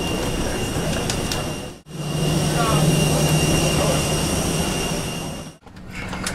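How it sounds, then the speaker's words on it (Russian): Steady jet-engine hum and air-conditioning rush fill an airplane cabin on a flight leaving Cancun, loud and continuous with two brief dips in level. "Мы в самолете."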